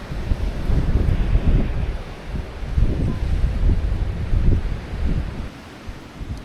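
Strong wind blows across an open vineyard, buffeting the microphone in loud, gusty rumbles that rise and fall for several seconds, with no voice.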